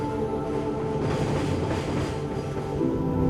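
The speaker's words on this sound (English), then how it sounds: "in the patience of distant train cutting through nowhere" A distant train rolls steadily past somewhere in the desert, a continuous low rumble with faint rail clatter that holds at an even level throughout, with no voices.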